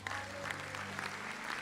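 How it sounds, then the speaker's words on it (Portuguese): A church congregation applauding, a steady wash of many hands clapping at moderate distance over a low hum, without clear speech on top. "Aplaude a Deus por isso"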